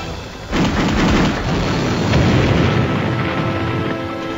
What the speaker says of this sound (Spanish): El juguete estalló.